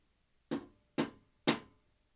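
Three evenly spaced, sharp knocks on a table, close and distinct, each fading quickly, against near silence.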